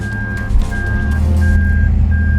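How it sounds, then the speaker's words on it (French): Loud, evenly spaced reversing beeps repeat about four times as long tones over the low engine rumble of a Toyota Mark II Blit with a 1JZ engine. "C'est du bip de recul?"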